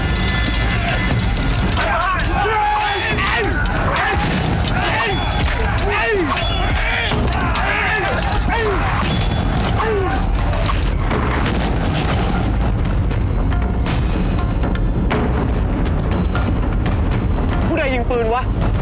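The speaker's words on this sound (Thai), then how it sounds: "ผู้ใดยิงปืนวะ" Loud gunfire and heavy booms fill a battle scene in a Thai historical period drama: repeated sharp shots and blasts over a dense, roaring background that lasts throughout.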